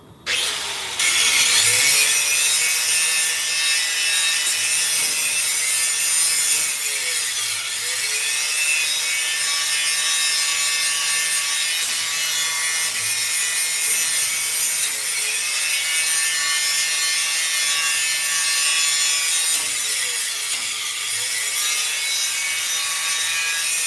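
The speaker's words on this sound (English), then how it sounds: "we need to grind and clean up from here to here" A grinder works on metal to clean it before welding, giving a loud, continuous abrasive whine close by that holds steady for the whole stretch with small dips in pitch as pressure changes.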